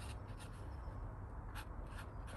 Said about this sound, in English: write down what the screws are